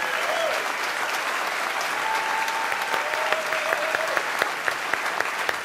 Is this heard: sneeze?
no